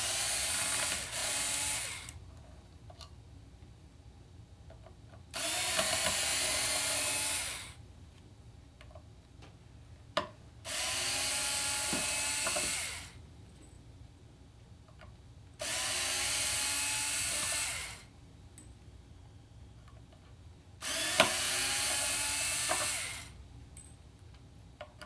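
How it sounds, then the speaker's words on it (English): Mounting screws are backed out of a guitar bridge with a ratcheting screwdriver, heard as five evenly spaced bursts of rapid, close clicking separated by quiet pauses. "we're going to take these mounting screws out."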